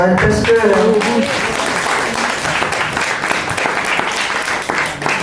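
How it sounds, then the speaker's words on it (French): An audience applauds the vice-president, Michel Donati, at a recital evening, with steady dense clapping throughout and a voice speaking over the opening second. "Applaudissez-la bien fort"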